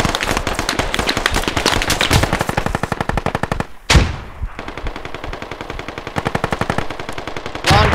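Coaxial machine gun on a Warrior armoured vehicle in the Squad video game, firing long, rapid, loud sustained bursts with a brief pause midway and a fresh burst at the end.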